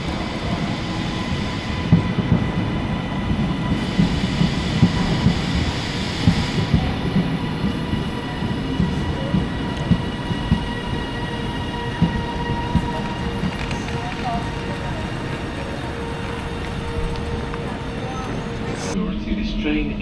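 A train rumbling steadily along the rails, a continuous low roar with faint rhythmic clatter, heard from inside a carriage.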